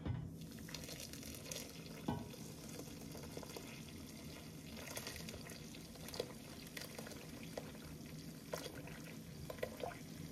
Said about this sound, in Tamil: சுடு தண்ணியை விட்டு கரைக்கலாம்.